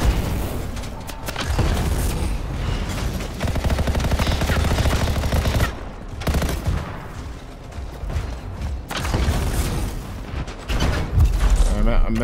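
A big yellow gun fires in the video game Anthem, loud bursts of heavy automatic gunfire with booming impacts, broken by a few short pauses, with a voice speaking over the shooting.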